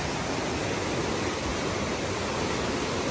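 Loud, steady rushing water roars continuously and close by, a dense broadband wash with no pauses.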